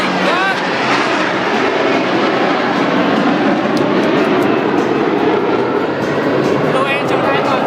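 Blue Angels jets in diamond formation roar past at the Seafair Air Show, a loud, steady, broadband rushing roar that fills the whole stretch, with an announcer speaking over it.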